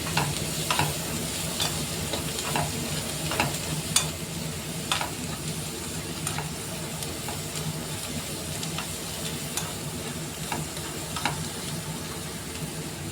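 Pieces and green chillies fry in hot oil in a pan, giving a steady close sizzle with repeated sharp clicks and pops from stirring, and no voices.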